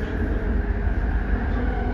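LRT Kelana Jaya Line train running between stations, a steady rumbling rail roar with low-end vibration and high whine, continuous and close, no talk.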